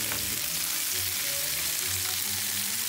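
Potatoes frying in a pan give a steady, dense sizzle throughout, loud and close, with faint low hum underneath and no voices.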